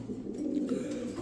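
A pair of Spanish pouter pigeons coo softly and steadily at close range, a low murmuring throb with no talk over it.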